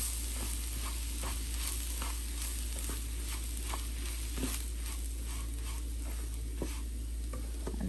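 Fine semolina (rava), 1.5 cups, dry-roasts in a pan over a medium flame while a spoon stirs it, making repeated soft scraping and gritty rustling strokes over a constant low hum.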